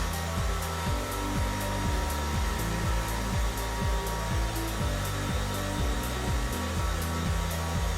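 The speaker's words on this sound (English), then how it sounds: "now I'm just gonna use my hair blower, and I'm gonna use it on the cool set" A hair dryer on its cool setting blows loud and steady close by, its motor whine holding constant throughout, used to dry a sprayed grey-dyed wig.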